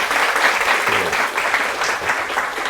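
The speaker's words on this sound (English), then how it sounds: "please join me to give a big round of applause to Professor Duncan McCargo" Audience applause at a lecture on Southeast Asian politics, celebrating Professor Duncan McCargo: steady, dense clapping from a sizable crowd running throughout, with faint voices briefly underneath.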